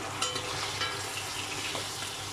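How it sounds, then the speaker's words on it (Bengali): A close, steady sizzle of a rohu fish head frying in hot oil in a pan fills the clip, with a few soft stirring sounds and no voices. "দেখুন আমার মাথাটা ভাজা হয়ে আসছে"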